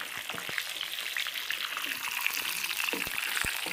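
Four green chillies sizzle in hot oil for a dal tadka, a steady crackling fry with a few sharper pops, close and moderately loud, no talking.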